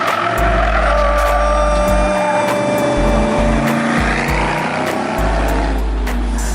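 A car drifting on a race track, its engine roaring loud and close as the tires squeal and skid in long sustained stretches, with a deep rumble underneath the whole time.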